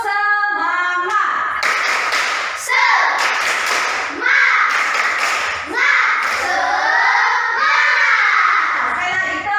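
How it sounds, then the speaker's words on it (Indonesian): Classroom children doing a rhythmic spirit-clap routine: loud, close bursts of clapping in a patterned beat, with children's voices chanting along throughout. "Tepuk semangat."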